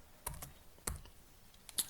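A handful of soft, irregular keystrokes tap on a computer keyboard, faint and close, with quiet pauses between them.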